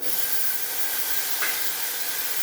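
Onion, green chilies and peas fry in hot tempering oil with a loud, continuous, dense sizzle close by, unbroken throughout.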